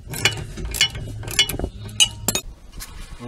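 Spanner working on bolts of an Astra G front suspension lower arm, a series of sharp metallic clinks and ratcheting clicks in irregular bursts, close and loud with no talk.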